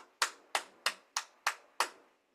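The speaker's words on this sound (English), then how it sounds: "I'm going to applaud." One person claps hands six times in a slow, even rhythm, each clap sharp and close with a short decay, alone in a quiet room.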